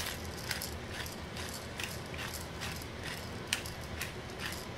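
A pepper grinder cranks out pepper over raw salmon fillets, a steady gritty rasp with faint repeated ratcheting clicks, soft and close with no talking.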